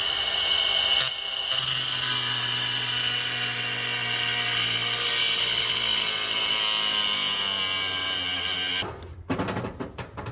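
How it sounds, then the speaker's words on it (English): A grinder cuts off stuck screw tops on a blade of a Peterbilt 379 big rig, a loud sustained high whine with steady grinding noise for several seconds, then it cuts off into clattering handling sounds. "these ones won't want to come out, so I'm just going to grind the tops off."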